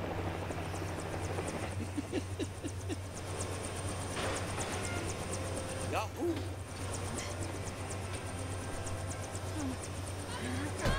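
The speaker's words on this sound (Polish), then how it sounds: "helikopterek leci" A helicopter in the Lego Jurassic World video game flies with a continuous rotor drone throughout, under scattered game effects and a person talking over the gameplay.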